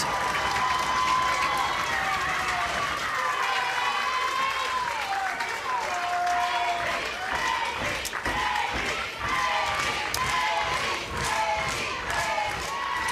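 Crowd cheering at a Little League softball game between Toms River, New Jersey and Sango, Japan, a sustained loud roar of shouts and clapping, with a commentator speaking over it.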